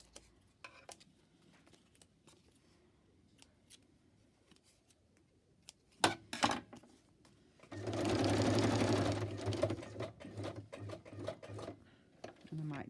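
A domestic sewing machine runs a zigzag stitch through fabric scraps in a steady whirring burst of several seconds, preceded by scissor snips and handling clicks, with a quiet voice in the background.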